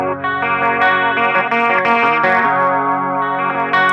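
An electric guitar plays a song intro, picking one chord on only its lower strings in a quick, bright, effected pattern that rings loudly and close for about four seconds, with no talking.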